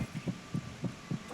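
Heartbeat effect from Metal Gear Solid 2, a steady low double-thump pulse repeating about every quarter to half second, soft and close with no talk over it.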